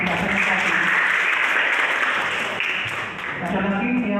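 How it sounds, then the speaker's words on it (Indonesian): A classroom gives a round of applause for a student named Aprilia after her presentation: steady, dense clapping from a room of students that lasts a few seconds without pause. "tepuk tangan buat Aprilia yang presentasi"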